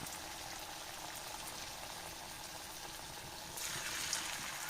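Kerala-style banana fritters (pazham pori) fry in hot oil with a steady, soft sizzling hiss that swells slightly toward the end.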